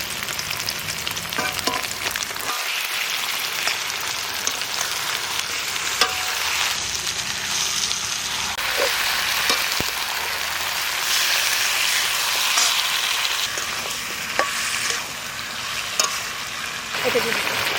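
Marinated country chicken with cumin paste and bay leaf frying in a wok for a green jackfruit chicken curry, a steady broadband sizzle with scraping stir strokes, close and continuous, no talking.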